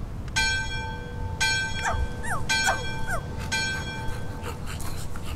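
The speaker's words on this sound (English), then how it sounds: "I have to get those dogs away." Dogs in the video game My Friendly Neighborhood give short yips and whimpering whines several times over a steady game tone and background hum, with no one talking.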